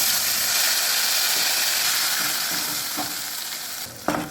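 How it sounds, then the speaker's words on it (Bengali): Ginger, tomato and green chili paste hits hot spiced oil with whole garam masala, giving a loud, dense sizzle that gradually settles, with a sharp clatter near the end. "আমি আদা টমেটো কাঁচা লঙ্কা পেস্ট করে নিয়েছি এবার আমি এটার ভেতর দিয়ে দেবো"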